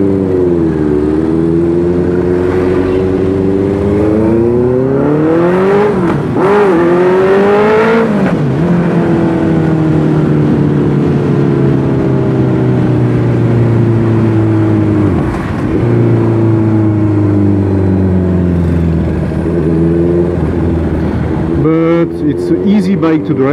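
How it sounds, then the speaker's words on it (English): Honda CB650F motorcycle with an R9 full exhaust, its inline-four engine revving loud and close, pitch sweeping up and down through repeated throttle blips and gear changes, a steady roar throughout. "David put R9 full exhaust on it. The sound is just amazing."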